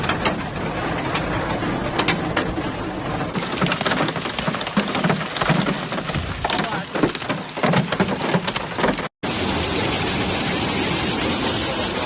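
Heavy rain pours down in a constant dense hiss during a storm, with low thunder rumbles beneath, loud and unbroken apart from a brief cut near the end.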